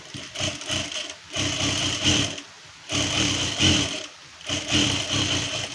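A sewing machine stitching a blouse lining runs in four close, loud bursts of rapid needle clatter separated by brief pauses, with no speech.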